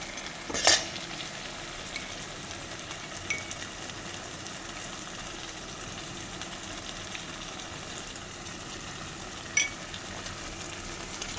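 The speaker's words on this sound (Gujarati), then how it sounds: "મિક્સ કરી દઈએ આને ટમેટાની સાથે. અને પણ થોડી વાર માટે ચડવા દઈશું." Tomatoes with pounded red chili cook in a frying pan, giving a soft, steady sizzle close by with a couple of brief utensil clinks, and no voices.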